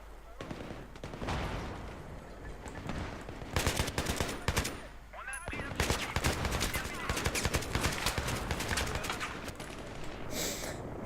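Gunfire in the video game Battlefield 3, with bursts of rapid automatic shots and single cracks coming in clusters over a background of game noise, fairly loud and close, with brief vocal sounds in between.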